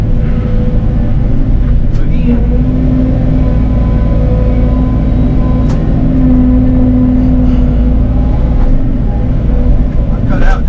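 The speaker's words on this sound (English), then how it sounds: "So let's go fire up the dump truck and start moving some dirt." A dump truck's diesel engine runs steadily throughout, a loud constant low rumble with a faint whine, while a person speaks briefly over it.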